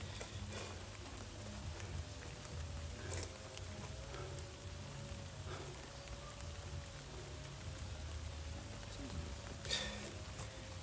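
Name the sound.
rain falling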